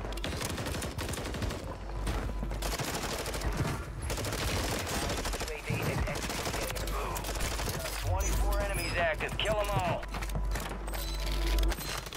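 Rapid automatic rifle fire from an M4A1 in the shooter game Warzone, loud bursts of shots layered with in-game effects and a busy firefight mix, continuous through the clip.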